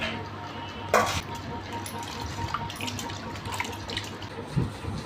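Chopped onions and green chillies tipped into water and washed in a home kitchen, a faint splash near the start and soft sloshing and dripping afterward, quiet and close with low background hum.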